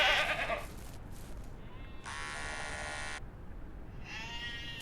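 Sheep bleat in short bursts during shearing in the farming game Ranch Simulator, with a steady electric-shaver buzz between calls and no talk.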